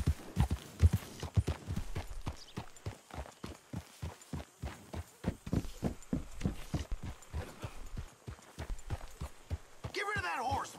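In the video game Red Dead Redemption 2, horse hooves clip-clop in a steady trotting rhythm while people talk over them.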